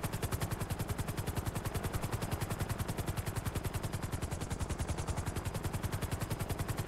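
A fast in-game helicopter in GTA 5, its rotor beating in a loud, rapid, perfectly even chop that drones on continuously with no other sounds.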